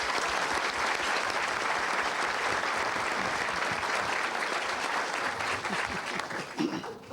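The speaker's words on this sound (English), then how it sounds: "Nice round of applause for Mr." Sustained audience applause at a Democratic gubernatorial debate in Chicago, dense and steady for about seven seconds before thinning slightly at the end, with no talk over it.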